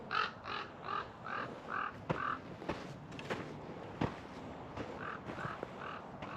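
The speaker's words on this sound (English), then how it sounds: "Look at those crows up there." Several harsh crow caws repeat in uneven bursts, moderately near, over outdoor background noise on a clifftop in the California hills.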